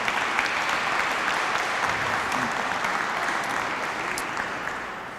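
Graduation ceremony audience at a construction management school gives a sustained round of applause, a dense steady clatter of many hands that tapers slightly at the end.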